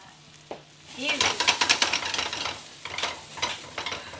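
Bubble and squeak frying in a pan, a close sizzling hiss with bursts of stirring and scraping in the pan, a few clinks of utensils, rising and falling in irregular waves.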